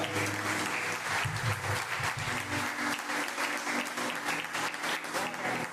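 Church congregation applauding during a pastor's sermon, a steady dense wash of clapping filling the room, with background voices and low organ-like tones underneath throughout.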